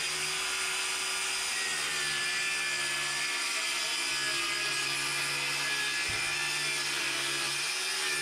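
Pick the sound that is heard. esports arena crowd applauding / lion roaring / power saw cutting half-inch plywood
power saw cutting half-inch plywood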